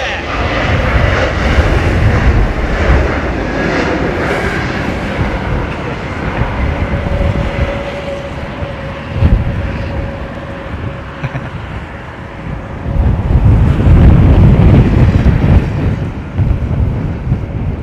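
A passenger airliner lands at London Heathrow in strong gusting wind, its engine roar steady and loud throughout with wind buffeting the microphone, swelling to a heavier rumble near the end; a voice talks briefly underneath.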